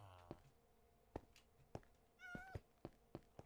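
Cat meows in the video game Minecraft: a repeated series of short, close meows at a steady pace, with one longer, drawn-out meow partway through, over a quiet background.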